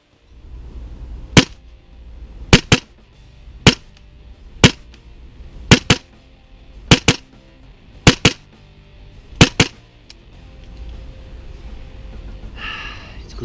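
A Tokyo Marui M16A4 MWS gas blowback airsoft rifle fires single shots, about a dozen sharp, loud cracks at an uneven pace, followed by a short hiss at the end.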